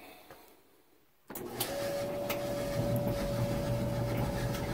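A clothes dryer with a full load and a heat reclaimer fitted to its vent starts up after a brief quiet moment, then settles into a steady, moderately loud drum rumble and airflow hum with a faint whine.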